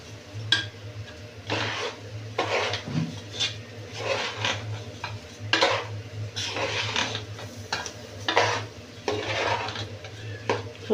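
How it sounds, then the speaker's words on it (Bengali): A spoon scrapes and clanks against a pot while rice and peas are sautéed in mustard oil for tehari. Repeated stirring strokes sound close over a faint low hum. "এখন আমি এটাকে ভালো করে কষিয়ে নিব।"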